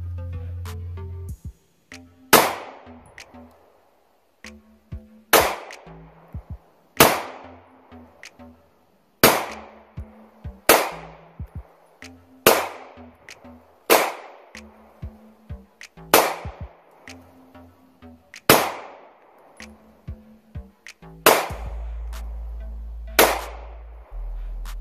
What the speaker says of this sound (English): Keep shooting at it, see what we can do.